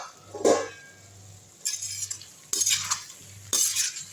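A spoon stirs coconut chicken curry in a pot in three or four separate bursts of scraping and clinking against the metal, close up, with a low simmering bubble between strokes.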